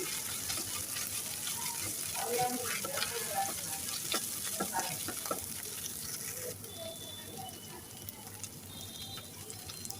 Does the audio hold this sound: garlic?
yes